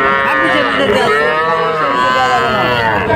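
A young heifer calf at the Panchbibi cattle market gives a loud, sustained moo that fills the whole stretch, set against the constant murmur and bustle of the market.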